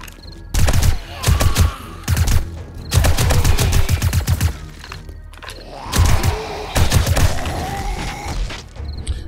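Rapid bursts of gunfire during a Titan fight in a Blood Moon horde night of 7 Days To Die with the Darkness Falls mod, loud volleys and automatic strings separated by brief pauses.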